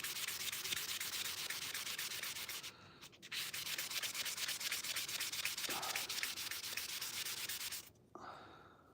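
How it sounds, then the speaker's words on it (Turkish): Steady, raspy sanding strokes rub back and forth close by, continuous with two brief pauses, as 600-grit sandpaper is worked over a hard surface. "İlk zımpara minimum 600 kuma kadar."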